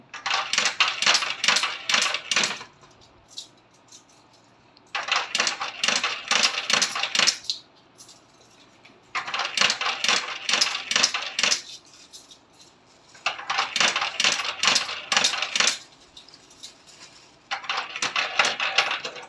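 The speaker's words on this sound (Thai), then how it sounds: "จากนั้นหยอดไป 20 เหรียญแล้วครับผมไฟจะกระพริบนะครับผม" Coins dropped one after another into a coin-operated box, in rapid metallic clinking bursts of a few seconds each, separated by short quiet pauses, close and clear.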